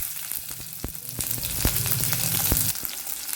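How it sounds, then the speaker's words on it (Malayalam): Mustard seeds, urad dal, chopped onion and green chilies frying in oil for millet upma, a steady close sizzle with sharp pops and clicks scattered throughout, and no voices. "1 ടീസ്പൂൺ കടുക് ഇട്ട് കൊടുക്കുന്നുണ്ട്. ഉഴുന്ന്, ഒരു ചെറിയ സവാള അരിഞ്ഞത്, 2 പച്ചമുളക്,"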